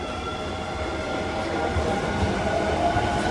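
Osaka Metro subway train at a station, a steady rumbling roar with faint rail clatter and a high whine running throughout, loud and continuous.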